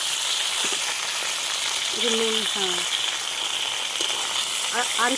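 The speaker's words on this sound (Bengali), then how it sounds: "আলুটা আর একটু ভাজা ভাজা করবো" Potatoes frying in a pan for Kolkata-style aloo dum biryani give a steady sizzling hiss throughout, while a person speaks briefly over the cooking.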